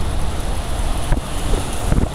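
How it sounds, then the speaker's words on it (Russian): Wind buffeting a rider on a MiniPro C3 800W electric minibike, a broad rushing roar with rumbling gusts and low thumps, loud and close against the microphone. "ветер достаточно сильно обдувает"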